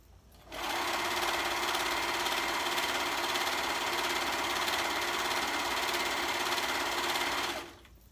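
Sewing machine stitching two layers of fabric for an easy women's dress, a steady, continuous whirring run that starts abruptly, holds an even loud drone for about seven seconds, then stops.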